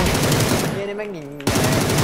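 Rapid automatic gunfire in the shooter game PUBG, loud bursts at start and end with a short gap where a voice speaks over fainter sound.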